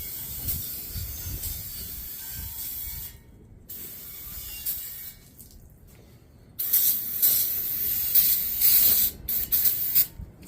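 All-purpose parts cleaner hisses from an aerosol can onto a Chevrolet 5.3 engine from a Caprice Classic, coming in several close, loud spray bursts with short pauses between them.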